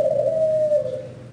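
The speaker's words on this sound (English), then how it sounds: "Oh, it's a bird." A bird's single sustained cooing call, pigeon- or dove-like, steady and fairly close, then slowly fading, with no talking over it.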